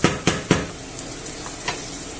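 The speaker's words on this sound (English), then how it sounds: "we leave it there to fry" Onion and sausages frying in a pan, a steady close sizzle with a few sharp stirring scrapes near the start and lighter clicks later.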